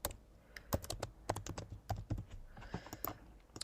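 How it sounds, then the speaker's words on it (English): Someone types on a computer keyboard during a website design session. Quick, irregular key clicks sound up close and alone, with small pauses between bursts. "I'm going to click on T on my keyboard and I'm going to type UI UX design."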